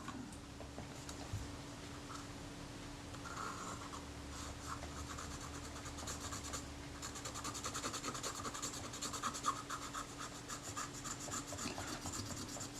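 Steady, close rasping and rubbing while the metal body of a Retina Reflex type 025 camera is cleaned during a service, continuous and fairly quiet with small clicks scattered through it.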